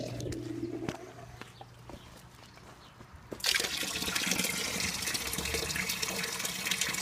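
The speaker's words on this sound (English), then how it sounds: "The pump's like a 400 gallon per hour pump. It seems to work pretty good." An electric 400 gallon per hour pump runs a well hand pump water fountain, quiet at first, then a steady loud rush of splashing, trickling water takes over and continues to the end.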